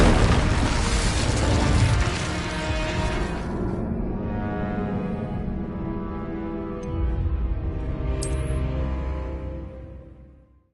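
In the game Hogwarts Legacy, an Incendio fire spell bursts with a loud roaring blast that fades into a rumbling tail, swelling again briefly before dying away.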